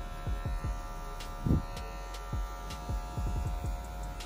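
Electric hair clipper with a mid-height guard cutting afro hair for a low fade, giving a steady close buzz and hum with brief soft strokes and clicks as the guard is combed downward through the hair.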